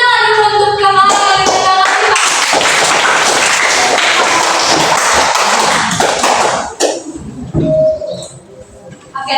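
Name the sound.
classroom clapping for a student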